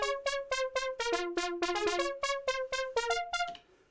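A bright, buzzy Argon8 synthesizer pulse-wave patch plays a quick sequenced pattern of short pulsing notes, stepping between pitches, then cuts off with a brief fading tail.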